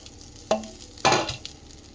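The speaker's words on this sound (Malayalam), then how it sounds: "ഇനി ഞാൻ ഗ്യാസിൽ ഒരു പാൻ വെച്ചിട്ട് നമ്മൾ അരിഞ്ഞു വെച്ചിരിക്കുന്ന പയർ അതിലേക്ക് ഇട്ട് കൊടുക്കുക" Chopped long beans for a Kerala-style thoran are dropped into a pan on a gas stove and stirred, making two short, close clattering bursts with a faint hiss between them.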